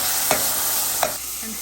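Liver and gizzards frying in a pan with onions and bacon for a Thanksgiving dinner, a steady broad sizzle with two sharp utensil scrapes and a soft clink near the end.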